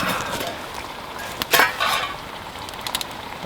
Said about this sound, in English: Fish boiling in butter.